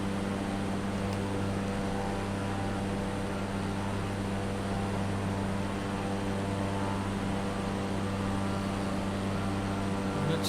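Steady drone of a small propeller plane engine in flight on a Tasmanian bush trip from St Helens to Launceston, a constant hum with strong low harmonics and no pauses, no talk.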